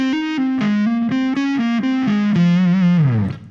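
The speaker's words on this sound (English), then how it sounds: "Then I go into this delicious slidey phrase." A distorted electric guitar plays a short phrase of sliding notes from a solo, gliding between pitches, ending in a downward slide that fades out.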